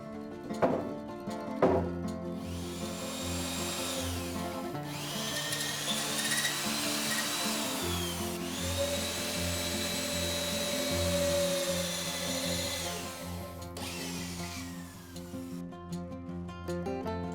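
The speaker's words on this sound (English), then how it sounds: "I use a square chisel machine to cut the mortises on the columns." A square chisel mortiser cuts mortises into timber woodshed columns with a steady loud motor whine and grinding bites, broken by short knocks between cuts.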